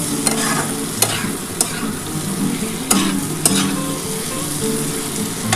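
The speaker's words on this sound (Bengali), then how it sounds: "আগে মশলাটা ভালো করে কষিয়ে নিই" Spice paste for a potato curry with katla fish head is sautéed in oil in a pan, releasing a steady dense sizzle with a few sharp spatula scrapes and taps, close and loud, without talking.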